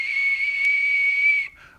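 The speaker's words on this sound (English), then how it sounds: "try experimenting with your voice, or perhaps whistling at different pitches" A person whistles one steady, piercing high note, loud and close, held for about a second and a half before it drops off and fades.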